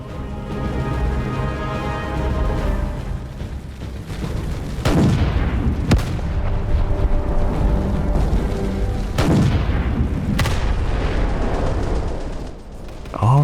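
Warship guns in the Roblox naval combat game Naval 1945 fire repeatedly, with heavy booming blasts and sharp cracks over a constant loud engine-like rumble.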